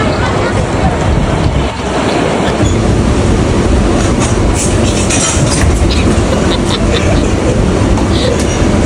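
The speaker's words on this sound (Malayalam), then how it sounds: "ഇനി നമ്മൾ ട്രെയിൻ കയറി എയർപോർട്ടിലോട്ട് പോവാണ്." Loud, continuous rumble and rattle from inside a moving Mumbai suburban train heading from Churchgate toward the airport, with steady wheel clatter and faint voices under the din.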